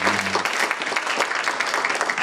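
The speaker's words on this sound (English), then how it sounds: "Let's get the Most High hand clap." A church congregation at a Feast of Trumpets gathering claps their hands, bright and brisk, the claps blending into steady applause after a brief low tone at the start.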